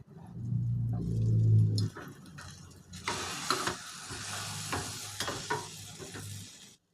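A two-egg omelette sizzles and crackles in a hot pan, with scraping and stirring noises over the frying hiss; no one speaks.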